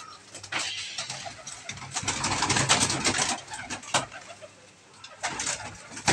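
Pigeons on a netted rooftop coo and flutter after being let out of their coop, a busy, near mix of calls and wing noise with brief louder bursts.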